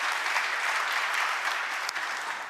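Loud, dense audience applause at a Korean government policy briefing fills the whole stretch, steady clapping from many hands with no voices over it.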